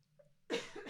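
A single cough from a person with a ticklish, irritated throat, abrupt and close after a quiet moment, followed by a brief second burst.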